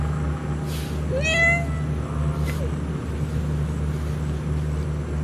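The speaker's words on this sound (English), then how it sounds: "Look at you, soft kitty." A cat meows in the Shadow of the Tomb Raider video game, giving a couple of short rising mews over a steady low hum of game ambience.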